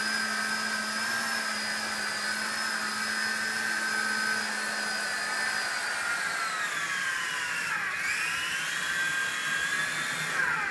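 A Novus CX RC helicopter hovering indoors gives off a steady, high-pitched electric whine with a continuous buzzing rotor drone. Near the end the pitch dips briefly and then recovers.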